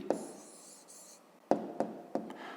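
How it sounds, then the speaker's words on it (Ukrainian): A pen writes an answer on paper during a grade-5 math lesson, giving a soft continuous scratch followed by three short, sharper strokes close by, with no talking. "Ну, а тепер записуємо відповідь. Пишемо відповідь."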